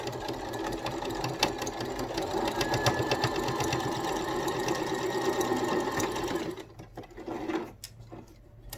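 A sewing machine stitches a fabric mask with wire sewn inside, running steadily and loudly at close range for several seconds before stopping, followed by a few faint handling clicks.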